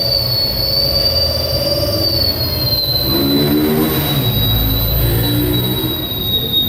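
NXT Storm XR electric bike accelerating in a lower gear, not yet in sports mode: a loud, steady high-pitched motor whine runs throughout, with further rising tonal sweeps swelling midway. No talking.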